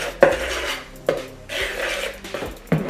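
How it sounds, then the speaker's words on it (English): Quick stirring of dry ingredients, flour and cornstarch, in a bowl while making Halloween spell book cookies: several scraping, clinking strokes of utensil against bowl, close and fairly loud, with no talking. "I'm going to give it a quick stir just to mix it all together."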